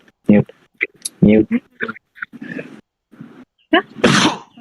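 A sharp sneeze bursts out near the end, following scattered bits of speech and quiet pauses.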